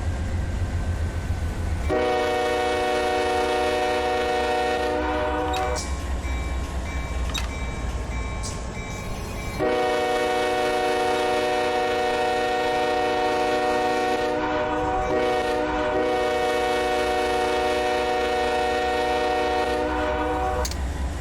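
A freight train in Run 8 Train Simulator sounds its horn in two long, loud blasts separated by a short gap, with a low rumble of the locomotive running beneath throughout.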